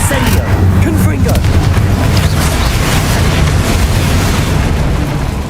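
A continuous roaring blast of spell explosions from the Hogwarts Legacy video game, Confringo fire and blasting curses, loud and sustained throughout.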